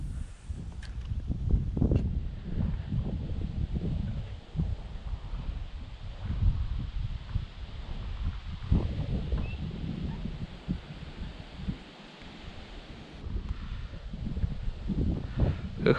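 Steady wind blows outdoors beside a small trout stream on a cold day, buffeting the microphone with a continuous low rumble and gusty rustle for the whole stretch, without any talk.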